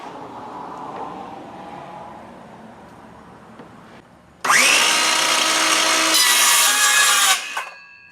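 A cut through a piece of wood for a makeshift 3D printer support starts with a faint low rubbing and then becomes a loud, harsh burst of sawing for about three seconds before stopping abruptly.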